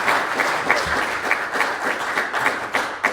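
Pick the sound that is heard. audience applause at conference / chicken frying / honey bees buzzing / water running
audience applause at conference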